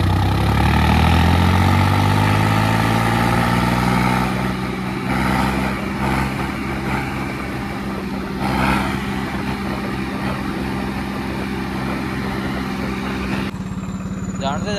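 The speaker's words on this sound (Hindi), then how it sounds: "पूरा पिकअप ले रहा है ट्रैक्टर।" A Swaraj 963 tractor engine runs loud and close, pulling in a tractor tug-of-war contest, with a deep steady rumble that revs and shifts in pitch, and voices talking over it.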